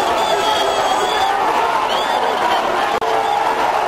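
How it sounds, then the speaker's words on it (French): Dense, excited crowd of voters surrounding Félix Tshisekedi at a polling event in the DRC, a steady loud roar of overlapping voices and cheering that runs throughout, with a brief sharp dropout near the end. "Au milieu d'une foule d'électeurs surexcités"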